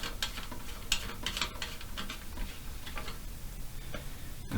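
A plastic nut on a toilet valve is turned off by hand, producing a string of small ticking and ratcheting clicks at an irregular pace, close by and fairly quiet against a faint background hiss.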